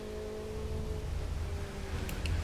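A car in The Crew 2 racing game rumbles along at steady, fairly loud engine drone, with low revving throughout and a brief brighter whoosh near the end as it moves past.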